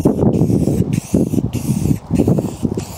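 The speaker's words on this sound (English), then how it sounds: "I like to paint my stands so I can kind of tell which bike they go to" Spray paint from an aerosol can coating a construction-lumber bike stand green, heard as loud, close bursts of hissing spray with brief pauses between passes.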